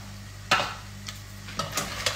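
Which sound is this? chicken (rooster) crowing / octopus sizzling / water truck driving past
octopus sizzling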